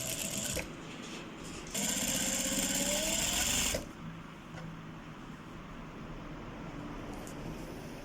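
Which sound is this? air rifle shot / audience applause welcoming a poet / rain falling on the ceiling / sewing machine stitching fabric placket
sewing machine stitching fabric placket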